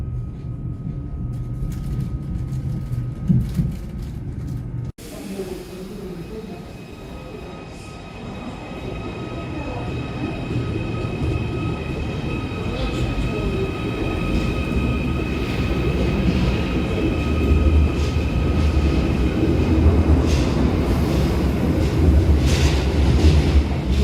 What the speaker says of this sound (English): That was the new Class 777s on Merseyrail.